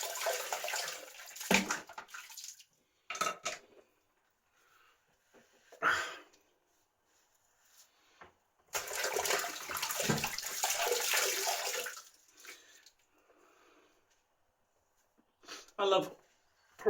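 Running water rinses a shaving brush in short bursts, with longer splashing gushes broken by silences, close by and fairly quiet.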